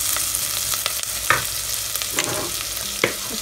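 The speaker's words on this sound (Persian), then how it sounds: "گوشت که تو این کره یه ذره تف داده میشه خیلی طعم خوب میده" Half a kilo of ground meat sautéing in a little butter for bolognese sauce, a close, steady sizzle with stirring scrapes and occasional sharper crackles, no talking.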